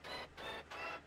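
A triangle instrument sound from the NIMBY Rails video game that comes across more like an orchestra hit: three bright, sustained bursts in quick succession, each with a brief gap, fairly faint and with no talking.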